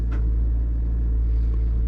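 A Toyota Roomy car drives along the road with a steady low engine and road rumble heard from inside the cabin, and no talking.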